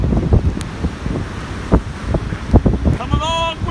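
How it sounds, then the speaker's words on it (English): Strong gusting wind from a passing hurricane buffets the microphone at a beach near a pier, with irregular bursts of roaring noise over distant surf. "Still very windy."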